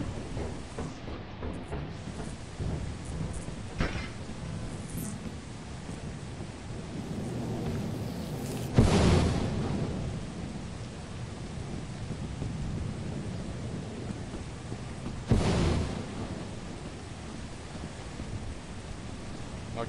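Thunderstorm in the video game Lethal Company, with steady rain hiss throughout and two loud thunder cracks rolling in, one near the middle and another later, standing out over the continuous downpour.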